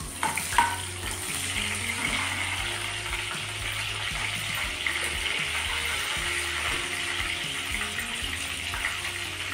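Steady crackling sizzle of spices and green chillies tempering in hot oil, a continuous bright hiss with a low hum underneath, no voices.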